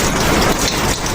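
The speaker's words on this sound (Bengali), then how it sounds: "দেখুন কীভাবে একটানা বৃষ্টি হয়েই চলেছে।" Continuous heavy rain pours down steadily, a dense, loud, unbroken wash of drops with no pauses and no voices.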